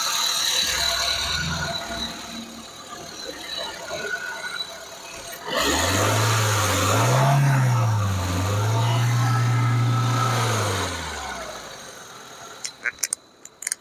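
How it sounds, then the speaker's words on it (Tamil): A Maruti WagonR petrol engine idles close to the microphone after quieter background noise. Its low steady hum swells in partway through, wavers slightly, holds for several seconds, then fades away before a few faint clicks. "இன்ஜினோட நாய்ஸ் நான் உங்களுக்கு மைக்கு பக்கத்தில் வச்சு காட்டுறேன்,"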